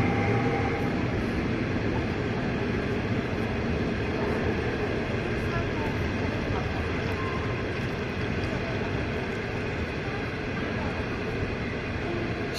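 An old green-painted passenger train rumbles past on the Loess Plateau near Yulin in northern Shaanxi, a steady loud broadband roar of rolling cars that holds for the whole span.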